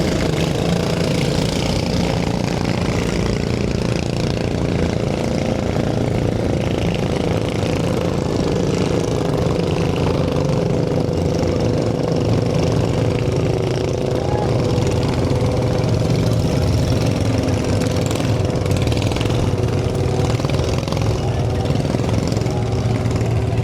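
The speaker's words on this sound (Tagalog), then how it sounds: "Yan po, padaong na ang ating bangka." The engine of a bangka boat idles as it docks, a constant, loud drone, unbroken and close, with no clear talk above it.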